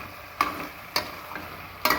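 A spatula scrapes and stirs mutton fry in a hot pan, with three sharp scrapes against the pan bottom over a steady sizzle.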